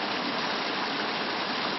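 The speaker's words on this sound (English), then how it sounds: "Look at a waterfall." Floodwater gushes like a waterfall down a driveway beside a house in Herndon, a dense, steady, loud roar of rushing water that fills the whole moment with no voices.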